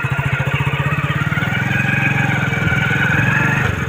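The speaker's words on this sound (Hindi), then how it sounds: "बाइक मेरा स्टार्ट हो गया" A motorcycle engine pulses rapidly in first gear, loud and close. Its steady putter rises into a smoother, higher drone as the revs pick up, then drops off abruptly at the end.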